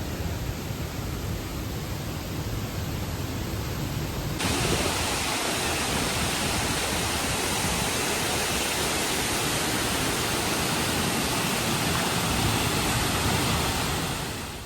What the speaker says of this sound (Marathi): आपल्याला हा धबधबा दिसतोय बघा समोर.